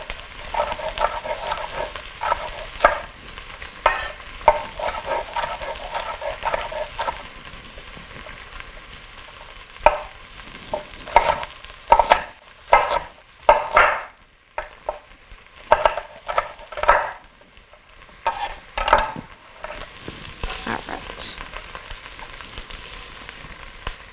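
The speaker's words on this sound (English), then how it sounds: "we've got the onions and garlic in our pan, and we're just going to cook those for a couple of minutes until they become tender" Onions and garlic cook in a pan for a one-pot Cajun chicken pasta, giving a steady sizzle broken by frequent scraping and stirring strokes, close and fairly loud, with no one talking.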